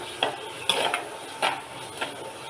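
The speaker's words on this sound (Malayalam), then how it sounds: "തക്കാളിയും കൂടി ഇട്ട് വഴറ്റുക" Tomatoes being sautéed in a pan for kovakka mezhukkuvaratti, heard as a few scattered stirring scrapes and light clinks over a soft continuous sizzle, close but fairly quiet.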